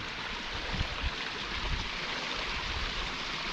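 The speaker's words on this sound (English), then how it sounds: "I was wondering if I was able to maybe walk up this waterfall here" A Scottish waterfall near an abandoned Victorian farmhouse roars in a constant, dense rush of falling water with no let-up, heard close by.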